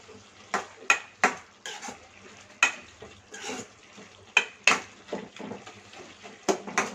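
A spatula stirs broad bean curry with salt and chili powder in a pan, giving repeated scraping, clinking strokes in an uneven rhythm over a faint sizzle, close and moderately quiet.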